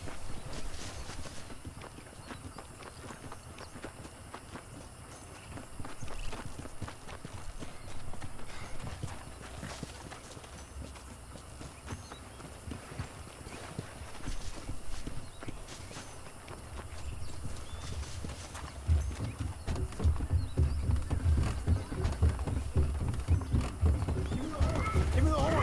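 Horse hooves clip-clop in Red Dead Redemption on PS3, a steady walking gait under game music and background noise, with a shouting voice in parts.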